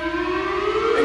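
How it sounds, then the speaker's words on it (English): Nord synthesizer tone with the glide function turned up, a single sustained note sliding smoothly upward in pitch over about a second, loud, close and unaccompanied. "it glides, the note glides."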